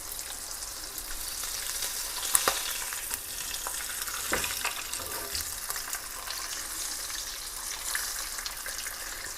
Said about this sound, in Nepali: माछालाई फेरि बिस्तारै पल्टाएर अर्को तर्फतिर पनि पकाउने।